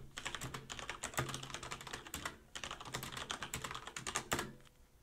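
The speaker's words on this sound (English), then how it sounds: "Hopefully that was enough for you to see or hear what the Cherry MX Reds sound like" Fast, full-force typing on a Corsair K70 mechanical keyboard with Cherry MX Red switches, a dense close-up clatter of keystrokes with brief pauses, heard alone with no talking.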